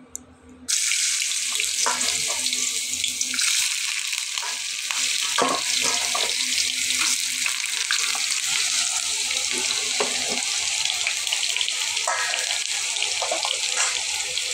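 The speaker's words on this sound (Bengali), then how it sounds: "এখন দিয়ে দিচ্ছি আলুটা দিয়ে দিচ্ছি। তো তেলটা বেশি গরম হয়ে গেছে" Potatoes drop into very hot oil and set off a loud, sustained sizzle and crackle, with scattered clinks and stirring sounds layered through the frying.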